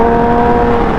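Motorcycle with a custom carbon fiber fender eliminator idling close by, a loud, steady low rumble with tonal engine drone and no voices.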